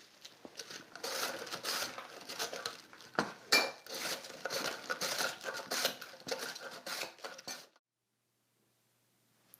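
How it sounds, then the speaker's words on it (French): Red cabbage sliced finely on a mandoline, a fast run of crisp scraping, clattering strokes that stop abruptly into silence near the end. "Voilà, mon chou rouge est coupé finement."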